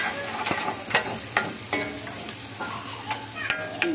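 A thick tomato, onion, cashew and almond paste sizzles with onions in a pan for a mushroom masala curry, with steady frying hiss broken by regular sharp scrapes of a stirring spoon; no voices.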